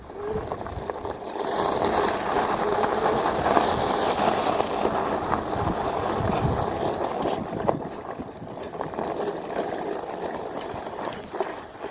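An Engwe M20 electric bike ridden over rough ground, a continuous rattling, rumbling noise of the frame and suspension over bumps, steady and close throughout.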